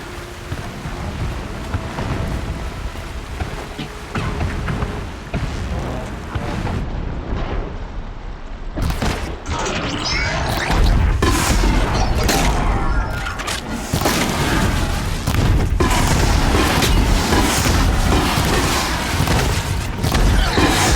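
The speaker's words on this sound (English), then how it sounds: "explosions in the distance." Distant explosions in the Horizon Zero Dawn action game, heavy low rumbling booms rolling continuously over a dense noisy background, loudest and thickest in the second half.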